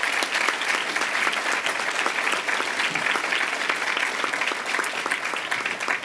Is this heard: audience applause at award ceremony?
yes